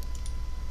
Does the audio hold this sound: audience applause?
no